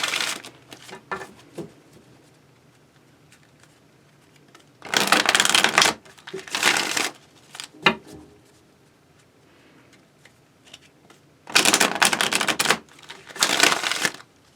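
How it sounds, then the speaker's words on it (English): Tarot cards are shuffled in several short, crisp riffling bursts separated by quiet pauses, close by and fairly loud. "I'm going to have to do some extra shuffling"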